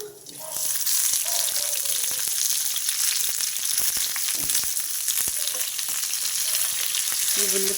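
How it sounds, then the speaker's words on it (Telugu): Large onion pieces sizzle in hot oil for a drumstick masala curry, a steady close frying hiss with repeated sharp clinks and scrapes from stirring. "ఆ ఉల్లిపాయ వేగడం కోసం కొంచెం ఆయిల్ వేస్తున్నా"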